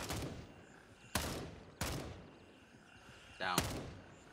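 Gunfire in Gray Zone Warfare, with four sharp, loud shots spaced about a second apart and a short rattling tail after the last, over quiet background.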